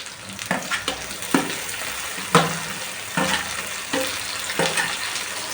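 Tomato pieces sizzle in a hot pan for drumstick and egg curry, a steady frying hiss broken by repeated stirring scrapes at irregular intervals.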